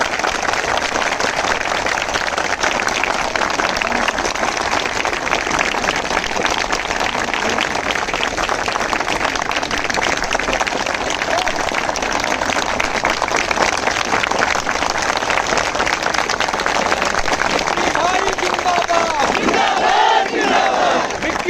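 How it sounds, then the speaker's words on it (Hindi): A protest crowd at a hunger strike gathering roars and claps together, a dense, steady wash of applause and shouting that holds at full loudness the whole way through. "तो थोड़ा सा तालियों की गड़गड़ाहट से बताइए कितना तैयार है।"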